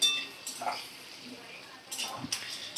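Diced potatoes are stirred in oil in a pan over a medium flame, with a few soft clinks and scrapes of a utensil against the pan, quiet and spaced out.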